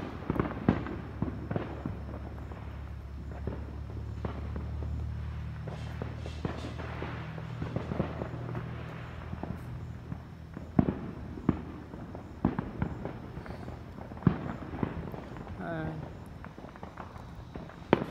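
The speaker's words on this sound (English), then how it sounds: "I just wanted to film some fireworks." Independence Day fireworks pop and bang at a distance in scattered, irregular bursts over a low background rumble, with occasional sharper cracks and some faint nearby movement.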